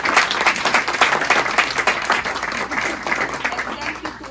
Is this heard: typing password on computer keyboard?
no